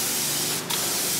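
Spray gun set to its finest output misting DuPont P5001 pretreatment liquid for DTG printing, a steady, close hiss lasting about a second with a brief dip midway.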